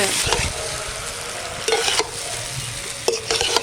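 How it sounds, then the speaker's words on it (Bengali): Potatoes frying in cooked-down spice paste for vegetarian aloo dum, a loud continuous sizzle with spoon stirring and scraping bursts against the pan, close up and without talk. "মশলা কষানো হয়ে গেছে এখন আলুগুলো দিয়ে দেবো"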